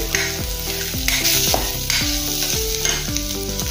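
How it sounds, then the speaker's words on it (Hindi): Curry leaves and asafoetida sizzle loudly in hot oil for a chana dal pulao, with steady crackling frying noise and repeated stirring scrapes in an uneven rhythm, close and continuous with no talking. "अभी इसमें हम कड़ी पत्ता डालेंगे और हींग भी डाल देंगे साथ में। अच्छे से थोड़ा सा भून लेंगे"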